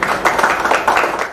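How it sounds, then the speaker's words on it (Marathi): An audience at a religious discourse gathering claps together in a short, dense burst of applause, loud and close with rhythmic pulses. "सर्वांनी जोरदार टाळ्या वाजवा."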